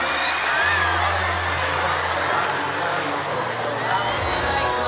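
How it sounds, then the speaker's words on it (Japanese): Audience applause and cheering greet the cast on stage at a film premiere for the Japanese movie March Comes in Like a Lion, a steady dense clapping crowd sustained throughout, with voices mixed in. "改めて大きな拍手をお願いします"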